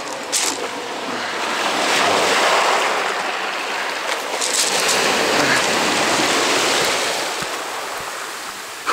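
Sea waves crash and wash steadily on the shore at Yalta, a loud continuous surf roar with wind buffeting the microphone and no voices.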